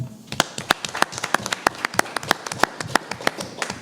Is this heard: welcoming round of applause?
yes